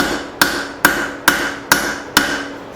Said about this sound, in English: using my straight peen here